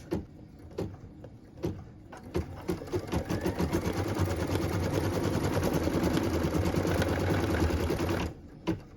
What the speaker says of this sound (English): we're going to stitch the outline, or the placement line of our tree